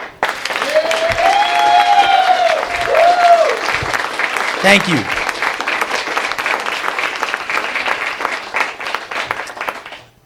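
Sustained applause from a comedy club audience for the show's producer during a stand-up special, a steady dense wash of clapping with someone speaking over it and a brief whoop partway through.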